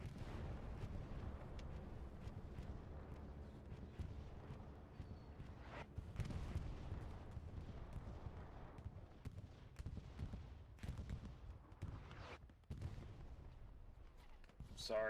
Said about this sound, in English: Sounds like a bombing run's coming in.